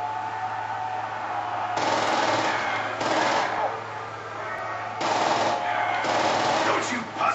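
Gunfire in the Nazi Zombies map Der Riese, heard as sustained bursts of automatic fire that swell and ease in waves, steady and fairly loud, with voices talking at times.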